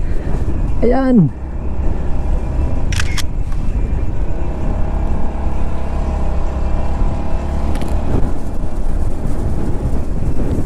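A motorcycle rides through strong, gusting wind near Ocampo, with a loud, steady roar of wind buffeting the microphone for the whole stretch. Someone speaks briefly over it.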